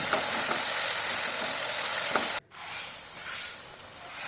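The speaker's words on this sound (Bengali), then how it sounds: "এরপর সব উপকরণ ভালোভাবে কষিয়ে নেব" Masala baigan spices and ingredients sautéing in a pan for a dhaba-style stuffed eggplant dish, giving a steady close sizzle and hiss with a few faint stirring knocks, then a sudden cut and a quieter, softer frying tail.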